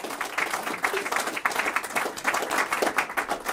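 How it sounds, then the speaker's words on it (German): An audience at the opening of a Bundeswehr veterans' office in Berlin applauds, a modest, fairly close patter of many hands clapping that continues unevenly for a few seconds. "Da können wir schon mal klatschen."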